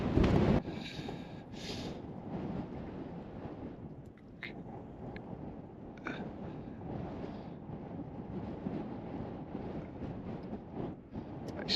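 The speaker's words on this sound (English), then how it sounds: "It's so windy up here, it's crazy." Steady low wind buffets the microphone in a continuous rumbling roar, with a few faint brief knocks and no voices.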